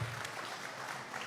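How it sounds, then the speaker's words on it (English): Quiet, distant applause patters steadily for a moment, a small crowd clapping in a room at a school assembly with no one speaking. "Let's give them a round of applause."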